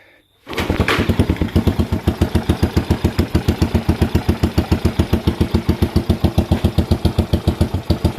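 A freshly assembled Postie bike motorcycle engine with a split muffler fires up after a kickstart and settles into a steady, close, loud thumping idle with a quick, even pulse.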